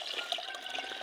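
Running water at a hillside fort in the Sahyadri range, a steady close splashing and gurgling flow filling the whole brief moment with no voices.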